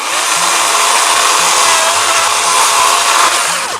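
A DeWalt FlexVolt battery chainsaw cuts through wood with a loud, steady high-pitched whine that holds without a break for the whole stretch, close up and with no talking over it.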